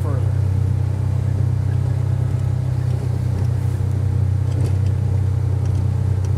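A John Deere Gator 835M UTV engine drones steadily and loudly up close while pushing through deep drifting snow, a constant low rumble with no letup.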